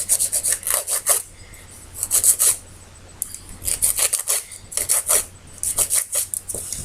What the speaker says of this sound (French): je vais limer, mettre à la taille que je veux.